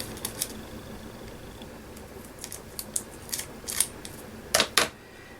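Decorative tape being cut and torn for a journal card, heard as a string of short, sharp crisp snips and rips at irregular intervals, close and fairly quiet, with the loudest tearing bursts near the end.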